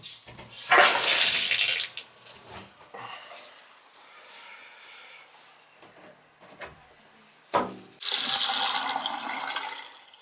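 Water gushing from a Delta tub shower valve in two loud hissing bursts, at the start and the end, with quieter handling noises and brief clunks in between.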